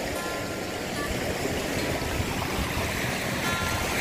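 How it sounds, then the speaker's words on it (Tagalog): A creek flows beside a seashore area, a continuous broadband rush and babble of running water at close range, steady and fairly quiet, growing slightly louder toward the end. "May sapa po pala dito mga kalingap."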